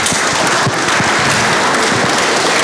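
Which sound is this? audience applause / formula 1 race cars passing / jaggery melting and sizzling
audience applause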